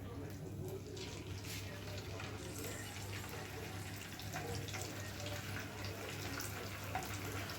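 Chicken wings are lowered one at a time into hot frying oil, giving a steady, close crackling sizzle over a low hum throughout.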